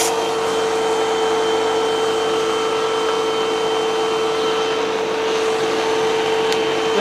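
A Hoover vacuum cleaner runs steadily after its hose has been unclogged, giving a loud, even whine with a constant pitched hum that holds unbroken throughout, close by and with no talking.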